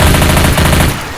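Rapid automatic gunfire in Left 4 Dead 2, a loud, close, even stream of shots that cuts off abruptly near the end of the short burst.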